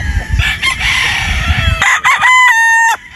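A rooster crows loudly and up close at a game farm in Batangas, one drawn-out call preceded by a noisy stretch of clucking and farm clatter.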